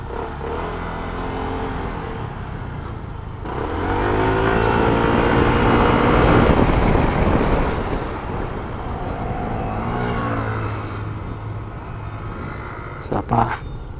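A Euro Falcon 180i motorcycle engine revs up and eases off while weaving, its pitch rising and falling in waves, close and steady with rider noise and a brief clatter near the end.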